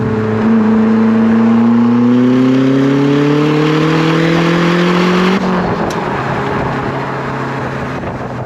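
A Ford Focus RS Mk1 with a turbocharged engine accelerates hard, the engine note climbing steadily through the revs for about five seconds before easing off at a gear change, loud and close from inside the car with no talking.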